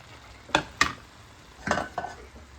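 Boiled potatoes are stirred into a frying tomato-onion mixture for rajma curry: four sharp spoon-against-pan clinks and scrapes, two close together, then a pause and two more, over a faint background.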